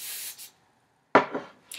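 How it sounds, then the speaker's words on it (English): Hairspray misted onto hair curled with a cone barrel iron: a brief hiss fades out, then after a short silence a sharper, louder burst of spray comes in, with another starting at the end. "Third and final step is to use hairspray in order to keep the curl so it does not"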